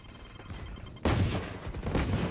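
Gunfire from the video game Valorant: after a quieter stretch, a sudden loud burst of shots breaks out and continues as a dense rattle of fire to the end.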